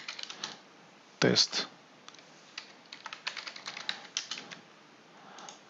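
Rapid typing on a computer keyboard, close by, in bursts of sharp keystroke clicks. A short spoken word breaks in near the start.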